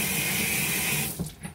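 Hot water gushes steadily from a tap into a container, a loud, close, hissing stream that shuts off after about a second, followed by a few soft handling knocks.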